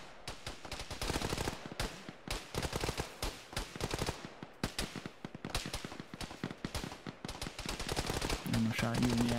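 Dense bursts of automatic and single-shot gunfire from an Arma military game firefight ring out almost continuously, loud and close, with rapid clustered volleys and a voice talking over the shooting.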